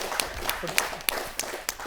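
Hands clap in an audience as a sparse series of sharp, fairly evenly spaced claps over a low background murmur.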